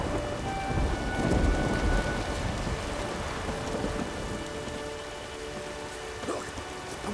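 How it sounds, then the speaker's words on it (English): Heavy rain pours down steadily during a thunderstorm in The Witcher 3, with low thunder rumbling near the start and a dense, constant hiss of falling water throughout. "The storm, damn it."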